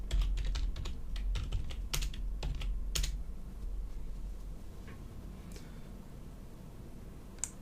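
Close, steady typing on a computer keyboard with rapid clustered keystrokes for about four seconds, thinning to sparse taps; no talking.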